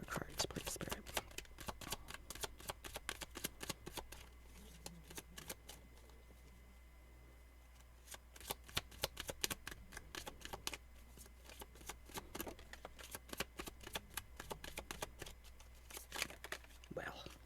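Tarot cards shuffled close up in quick, soft riffling bursts with brief pauses, under quiet spoken talk.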